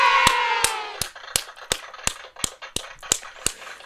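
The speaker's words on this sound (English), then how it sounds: "Let me give him some round of applause." Sparse hand clapping, about ten separate claps spaced roughly evenly, for a son graduating high school, starting over fading background chatter and ending almost alone.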